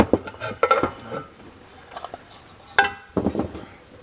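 Cold War Polish Army metal mess kit pans and pots being handled, giving close, loud clinks and clatters in irregular bursts with quieter gaps between, no voices.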